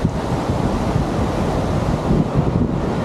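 Steady wind buffets the microphone in a constant low roar on a Malaysian beach, with surf rumbling underneath throughout; no one speaks.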